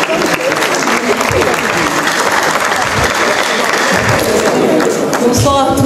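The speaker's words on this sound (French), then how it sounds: "on acclame très fort pour le Seigneur" A church congregation bursts into loud, sustained applause and cheering for someone coming forward, a dense close wash of clapping that holds steady from start to finish.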